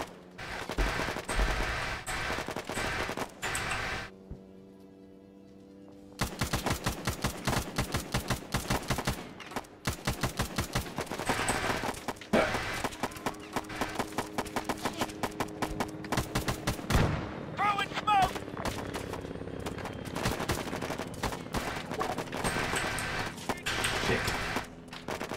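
Rapid machine-gun bursts in the Arma 3 video game, long loud rattling strings of automatic fire broken by a short pause, then resuming in dense overlapping volleys with scattered single shots.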